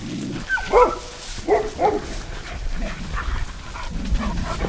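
A dog on an alpaca ranch gives several sharp, close barks and yips in short bursts, mixed with whimpers, over a low background rumble.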